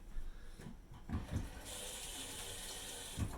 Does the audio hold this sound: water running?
yes